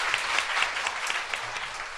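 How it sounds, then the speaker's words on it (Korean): Studio audience applause, a steady wash of many hands clapping at moderate level throughout, with no talk over it. "박수 한번 주세요."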